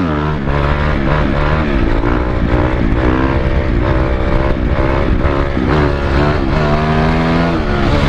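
A motorbike engine revs hard at very high RPM during repeated wheelie attempts, a loud, steady, buzzing drone with rising and falling pitch swells and no speech.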